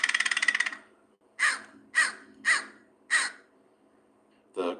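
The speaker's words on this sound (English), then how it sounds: "The caw-caw is essentially the same kind of thing as a bird's song." Ravens in Vermont call: a quick rattling burst of clicks comes first, then four evenly spaced hoarse caws and a lower final croak, all clear and fairly close.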